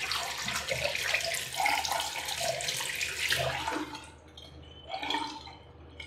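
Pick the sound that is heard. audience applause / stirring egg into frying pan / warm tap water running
warm tap water running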